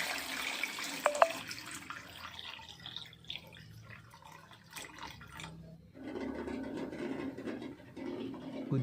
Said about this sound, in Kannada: ಮೊಟ್ಟೆ ಫುಲ್ ಆಗೋ ಥರ ನೀರು ಹಾಕೋದು